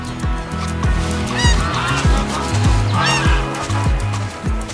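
A cartoon goose honks repeatedly in a forest scene beside a bear, a loud, close series of nasal honks in a fairly regular rhythm, with no speech.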